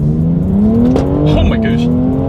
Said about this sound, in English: then we'll do the acceleration test on this one